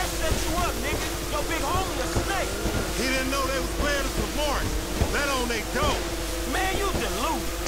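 A police boat on the water in the video game GTA V, with a steady engine drone and water noise under a dense layer of overlapping voices and warbling electronic effects.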